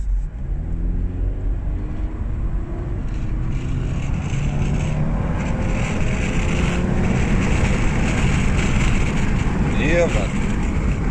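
A Subaru Impreza 2.0 turbo drives near Noordhoek with a window down: a steady, loud engine drone and road rumble fill the cabin throughout, with wind buffeting, a faint rising whine near the end and no talk.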